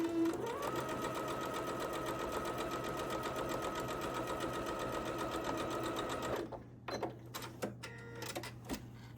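A sewing machine stitches a Starry Night quilt block in a fast, steady mechanical run that stops abruptly near the end, leaving a few faint handling sounds.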